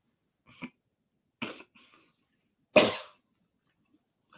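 Three separate coughs from a person, each a short harsh burst with quiet gaps between, close and clear in an otherwise silent room, the last one loudest.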